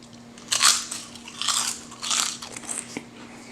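Crisp, close crunches as someone bites into crunchy homemade potato chips after dipping them, three or four sharp bites with chewing in between.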